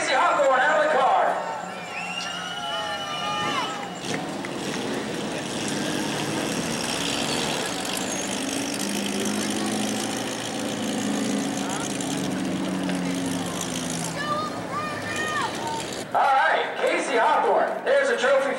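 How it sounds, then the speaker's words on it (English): A race car at a New Smyrna spectator race doing a burnout, a loud sustained engine roar with tire squeal swelling over several seconds, a crowd and an announcer's voice around it. "Casey, they want you to do a burnout."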